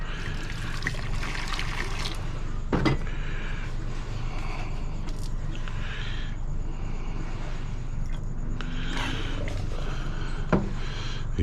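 Water being swirled and rinsed over gold in a glass beaker, soft continuous trickling and sloshing at close range, with a few sharp clinks of glass.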